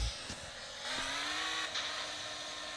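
A video game car engine hums steadily with a rising whine as it revs, accompanied by constant bright background noise and a couple of faint clicks.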